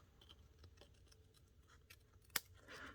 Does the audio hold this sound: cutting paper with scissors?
yes